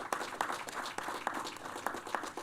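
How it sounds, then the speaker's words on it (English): An audience applauds at an outdoor ceremony naming the East Stand of Windsor Park Sports Stadium, a dense, steady patter of many hands with a few sharper claps standing out throughout. "I will invite you to applaud all the achievements"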